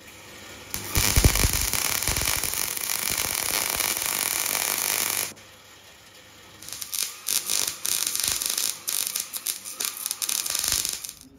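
Work on a Unimog 421 bracket: a loud continuous angle-grinder roar removing paint for about five seconds, followed by a rapid series of crackling, buzzing tack-weld bursts.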